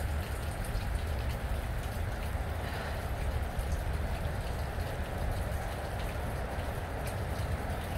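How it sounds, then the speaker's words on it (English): Steady moderate rain pours down under nimbostratus clouds, a dense, continuous patter of drops drumming on surfaces close by, loud and unbroken with faint wind and no talk. "Rain is coming down a lot harder."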